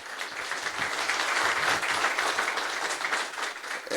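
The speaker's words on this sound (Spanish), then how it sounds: "Un aplauso para don Frank." Audience applause for an honored guest at a Punta Cana event, a dense wash of many hands clapping steadily for about four seconds with no talk over it, swelling slightly near the end.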